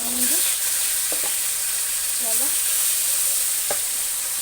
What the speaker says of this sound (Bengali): দেখো মাছ ভাজা হয়ে গেছে